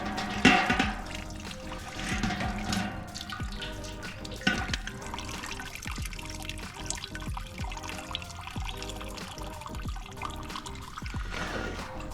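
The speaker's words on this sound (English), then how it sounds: "And I like to let them drain right here. Right back into the pot." A pot of freshly boiled Louisiana crawfish lifted out to drain, with water pouring and dripping back into the pot in uneven splashes and trickles, close and steady, with no talk.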